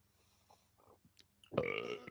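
A single close burp after a sip of oaky, barrel-aged drink, a sudden loud voiced belch that runs about half a second after faint quiet sounds.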